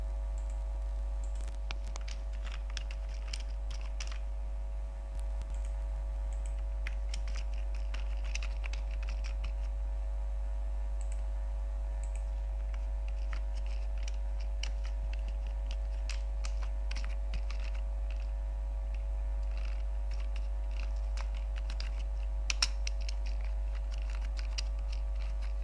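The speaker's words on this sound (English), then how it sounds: "So I'm going to type in the text as well." Typing on a computer keyboard, with quiet, irregular key clicks spread through a steady low hum and no speech.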